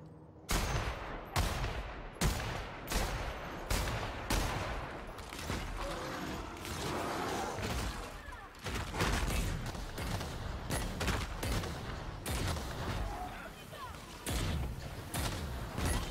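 Gunfire in the video game The Outer Worlds, with sharp shots firing in quick repeated bursts, loud and close, while someone talks over the combat.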